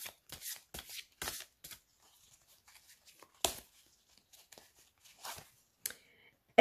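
Oracle cards being shuffled by hand in a quiet room, several quick riffling bursts separated by pauses, close and crisp, ending with a sharp snap.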